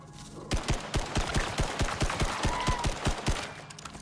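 Rapid automatic gunfire from an assault rifle or submachine gun in the survival game Icarus, a steady burst of about twenty evenly spaced shots, loud and punchy, alone.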